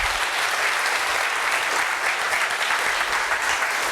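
An audience at a 2015 Gateway to Reason event breaks into steady, full applause, a dense wash of many hands clapping at even loudness throughout.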